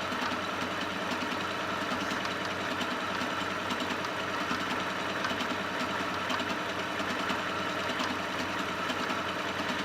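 A Singer 8500Q sewing machine runs steadily throughout, a continuous close mechanical whir with a fine rapid rattle of the needle stitching, fairly even in level with no voices.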